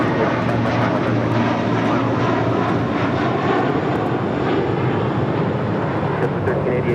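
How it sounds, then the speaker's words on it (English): A JetBlue Airways A321 departs LAX on runway 25 right, its jet engines producing a loud, steady roaring rush that holds constant and close throughout, with faint radio chatter underneath. "That was JetBlue Airways Flight 1388 heading to Boston on that A321."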